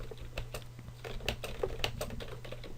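Keys clacking on a computer keyboard as a short welcome message is typed, a quick, irregular run of light taps heard close and fairly quiet over a low steady hum.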